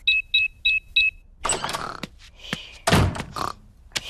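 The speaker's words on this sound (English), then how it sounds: "I'll just switch the alarm off" A house alarm keypad gives four short, evenly spaced electronic beeps as it is switched off in a cartoon home, followed by a door thunk, clatter and brief voices.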